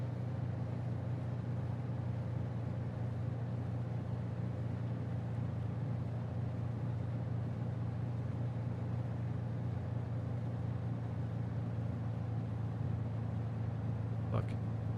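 Piper Archer II piston engine idling in Microsoft Flight Simulator 2020 runs as a steady, unbroken low drone for the whole stretch, with one faint click near the end.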